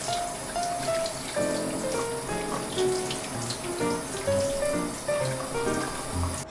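Water running steadily from a tap while a giant sea cucumber is cleaned, a continuous splashing stream with small knocks and plinks of handling mixed in.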